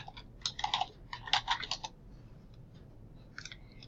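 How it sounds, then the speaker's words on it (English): Quick bursts of light clicking keystrokes on a computer keyboard, close and fairly soft, with a few pauses and scattered single taps afterward, no talking. "I'm going to go ahead and type in coral reefs."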